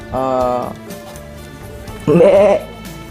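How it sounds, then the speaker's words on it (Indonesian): A goat bleats twice, a short wavering call and then a louder, shakier one about two seconds later, close and clear with quiet room tone between. "Itu suara kambing."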